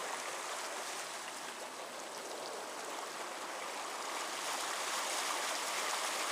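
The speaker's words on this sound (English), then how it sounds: "Soren and I are live at the wash, where the waters are flowing." Rainwater rushing through a desert wash in a valley, a steady broadband roar of flowing water, continuous and fairly close, with no voices.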